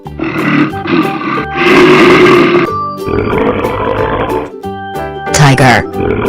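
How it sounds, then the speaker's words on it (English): A cartoon gorilla gives loud, throaty grunting roars in several close, heavy bursts separated by short gaps, with other animal-like calls nearby. "Gorilla."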